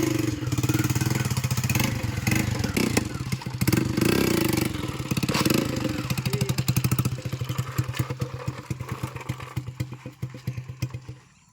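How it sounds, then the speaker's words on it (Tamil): Hero Splendor motorcycle fitted with an RX100 silencer exhaust, engine revving loudly and close with repeated throttle blips and a sharp popping note, settling toward idle at the end. "பீட்டு எக்ஸாஸ்ட் ஒரு நோட்டு பயங்கரமாக இருக்குது"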